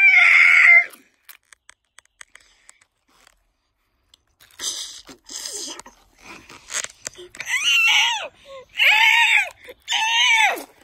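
A cartoon Triceratops screams in fury with several loud, wailing shrieks, one alone at the start and three more in a row near the end after scattered clicks and shorter cries.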